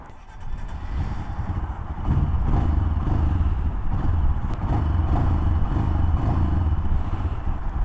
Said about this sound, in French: Elle fait un bruit de mono à l'ancienne.